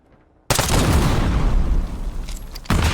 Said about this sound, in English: Blow up all the stuff.